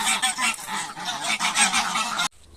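Farm geese honk in a loud, dense flurry of overlapping calls that continue steadily before cutting off abruptly, with no talking.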